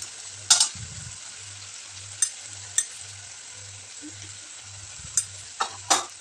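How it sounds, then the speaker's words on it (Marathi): A potato and eggplant curry with turmeric, chili powder and ground coriander is stirred in a hot pan. Scattered spoon scrapes and clanks land over a soft sizzle, with a pulsing low hum underneath. "आता सगळं मिक्स करून घेते"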